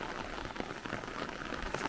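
Steady, heavy rain falls continuously on an outdoor yard near a canvas shelter, a dense even patter close by with no pauses and no voices.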